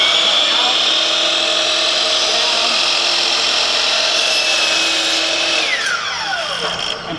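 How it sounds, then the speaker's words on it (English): A radial arm saw whines steadily and loudly through wood, holding a constant high-pitched tone for several seconds before the pitch drops as the blade spins down near the end. "I'm going to grab the saw, bring it down, make sure that the teeth line up with my cut"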